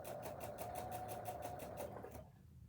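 A sewing machine runs steadily across a seam for about two seconds, a close, even, pulsing motor hum with rhythmic needle strokes that stops abruptly, leaving near silence.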